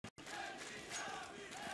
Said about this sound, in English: Navi wanted a crowd, and they've certainly got one.